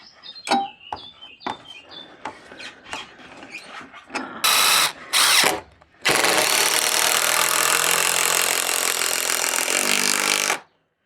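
A power screwdriver drives screws into roof rafters while rafters and purlins are doubled: a few short bursts of whirring after scattered knocks and handling noises, then one long, steady, loud drive of about four seconds.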